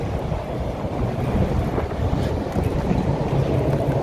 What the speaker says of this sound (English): It's a little bit windy, so hopefully you can still hear me.